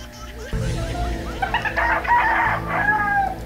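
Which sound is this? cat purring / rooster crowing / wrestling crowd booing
rooster crowing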